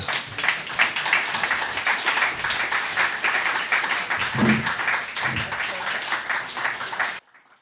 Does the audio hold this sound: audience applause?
yes